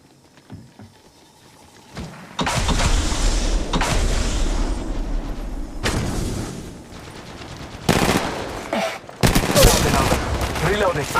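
Bursts of automatic gunfire erupt in Apex Legends Mobile, loud and close, starting after a quiet opening and recurring in several heavy volleys with brief gaps, while in-game character voices speak.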